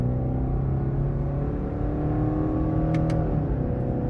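A 2023 Subaru Outback Onyx Edition with a 2.5-liter four-cylinder at full throttle, a steady rising engine drone heard from inside the cabin, with no voices.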